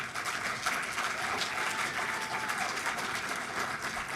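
A graduation celebration audience applauds the graduating students, a broad, even patter of clapping across a large hall, moderate in level and continuous.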